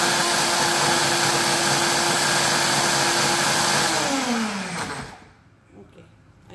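A blender grinds aloe vera leaf at high speed, a loud steady whir with a tonal hum, then winds down, the pitch sliding lower as the motor spins to a stop near the end.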